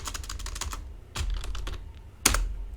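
Typing on a computer keyboard, with quick runs of close, crisp key clicks broken by short pauses and a couple of heavier key strikes.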